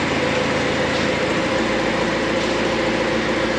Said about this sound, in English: Marcus, start it up and curl the clamp in, but don't give it too much gas.